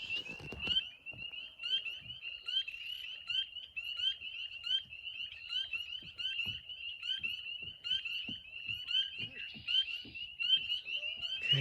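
Spring peeper frogs call in a marsh at evening, a dense chorus of rapid, high-pitched repeated peeps running continuously, with softer scattered sounds underneath.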